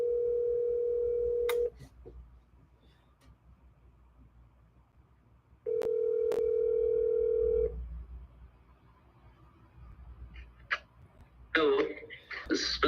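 A phone call rings out in two long steady ringback tones separated by a quiet gap, then the line clicks open and a person answers and talking begins near the end.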